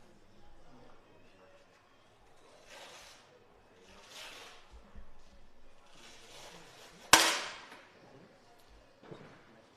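At a visually impaired mixed 10m air rifle para shooting final in Granada, one sharp, loud shot cracks out amid soft whooshing background sounds and a quiet hall.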